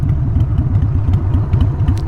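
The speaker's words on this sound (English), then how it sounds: "you can probably hear I've now got the Vance & Olin short shots on the bike" Old carbureted 2001 Harley-Davidson Sportster fitted with Vance & Hines Shortshots exhaust, a loud, close, lumpy engine rumble with a steady uneven pulse, no speech.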